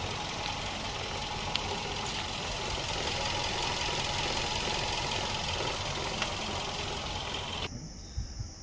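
A 2014 Maruti Swift Dzire VXI CNG engine idles with a steady, low hum and a faint knocking rhythm, then cuts off abruptly near the end.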